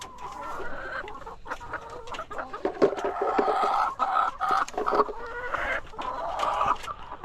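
Egg-laying hens cluck and cackle in a busy chorus, continuous and fairly close, with overlapping calls rising and falling throughout and no talk.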